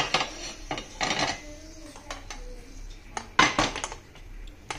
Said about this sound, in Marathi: मी खाली तवा ठेवलेला आहे, त्याच्यावर कुकर ठेवलेला आहे